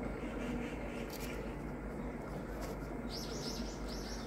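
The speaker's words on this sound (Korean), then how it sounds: "새 소리 들으면 진짜 어느 음악 소리보다도 저는 새 소리가 좋아요" Birds chirp softly in the distance, followed by a few gentle coos near the end against a faint outdoor background.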